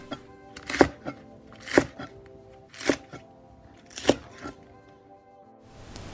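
A knife cuts green onions into two-inch lengths on a cutting board, five sharp, evenly spaced chops standing out clearly against a quiet background.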